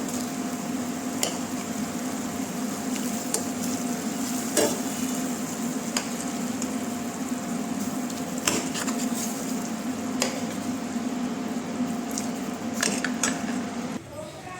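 Lentils sizzle steadily in a hot pan with occasional clinks and scrapes of a utensil stirring, continuing evenly throughout.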